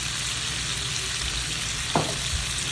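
Meat for a breakfast burrito fries in a pan with a continuous close sizzle, and a brief scrape of stirring cuts in near the end.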